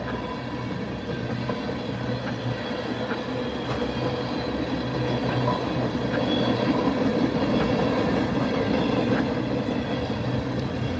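A long freight train rolls by nearby in the snow in a sustained, heavy rumble, with rhythmic clatter and occasional metallic squeals, growing slightly louder toward the end.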